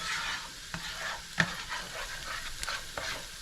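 Garlic sizzles in a hot pan and is stirred, giving a soft steady frying hiss broken by scraping clicks of the utensil against the pan.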